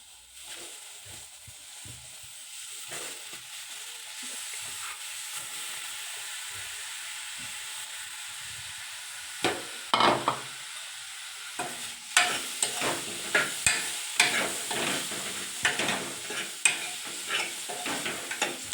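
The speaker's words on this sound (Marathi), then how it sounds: "तर आता आपण ही कोळंबी टाकून घेऊया." Medium-sized prawns sizzle in a hot frying pan for a prawn curry, a steady hiss at first, then louder with repeated scraping stirs of the spatula, close up with no talking.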